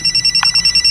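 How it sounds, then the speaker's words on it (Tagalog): A cellphone rings in a home scene of a Bisaya comedy drama, giving a short repeated electronic ringtone pulse that is steady and fairly loud, with no talk over it. "Cellphone ni mo, uy."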